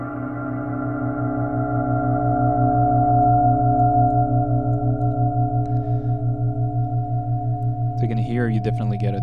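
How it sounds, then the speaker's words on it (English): Synth sound in Reason audio software with reverb feeding into a delay: a sustained, layered tonal drone with a steady rhythmic pulsing throughout, giving way to warbling, chirpy sweeps near the end. "Here you definitely get a different flavor with the reverb feeding into the delay."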